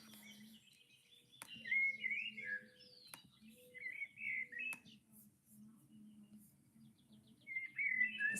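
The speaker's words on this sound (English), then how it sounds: "Some of those bird sounds that you guys are hearing are actually coming from outside" Birds sing outside, heard from indoors during a painting session: repeated short chirps and warbled phrases, moderately distant, with a low hum and occasional clicks beneath.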